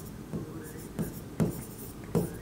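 A pen scratches across paper in short, separate strokes, about four of them, quiet and close against faint room noise with no talking.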